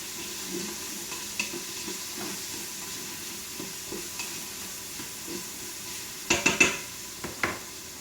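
A spoon stirs corned beef brisket inside a Power Pressure Cooker XL, soft scraping and gentle sizzling under a steady hiss, ending with a few louder clinks of metal against the pot.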